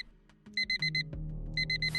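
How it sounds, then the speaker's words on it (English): A Roblox horror game alarm clock rings in rapid, high double-pitched electronic chirps that come in two quick bursts, loud and near, over a low hum and thumping in the background. "The alarm rang."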